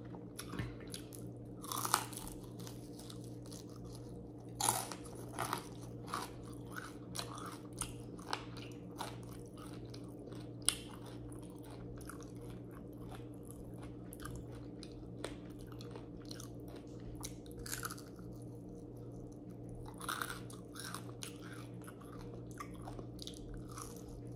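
Crispy boneless chicken feet and cucumber chewed close to the microphone in a quiet room, with repeated sharp crunches and bites scattered irregularly over a low steady hum, no talking.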